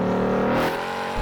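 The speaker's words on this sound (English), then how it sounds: "And the noise from the engine." A Hennessey Mammoth 1000 pickup truck engine revs hard with a deep, droning roar, close and loud, easing slightly toward the end.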